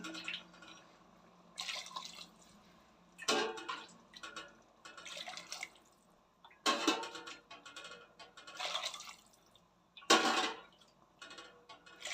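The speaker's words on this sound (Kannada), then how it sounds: "ಬಿಸಿನೀರು ಬಿಸಿನೀರು ಹಾಕೊತಾ ಇದ್ದೀನಿ" Hot water is poured in several separate bursts, splashing and trickling for a second or two each, with quiet pauses between pours.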